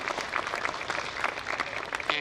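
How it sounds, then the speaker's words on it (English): Graduates and guests at a Three Rivers 2023 commencement give a short burst of applause for the faculty, a dense roomful of clapping that runs throughout before a voice begins speaking at the end. "How about a round of applause for the faculty?"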